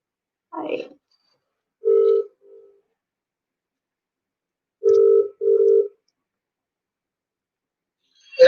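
Telephone ringback tone on an outgoing call to a live psychic reading line, with two separate double rings at a steady pitch heard clearly between brief bits of background voice.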